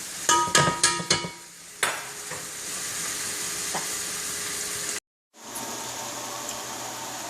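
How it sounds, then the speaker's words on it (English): Onions and bacon frying in a pot, a steady loud sizzle that opens with several quick metallic knocks of a utensil against the pot, breaks off in a brief silence, then resumes. "now that your onions and your bacon are nicely simmered and fried and sauteed in the pot"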